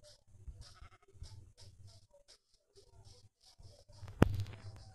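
Sheep bleating in a Minecraft-style video game, a few short soft bleats scattered through quiet background sounds, with one sharp louder burst near the end.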